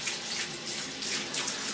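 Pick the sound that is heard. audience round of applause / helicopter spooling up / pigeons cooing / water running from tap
water running from tap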